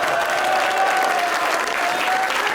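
A studio audience at a Pakistani comedy show claps steadily and loudly throughout, with a dense continuous wash of applause and no pauses.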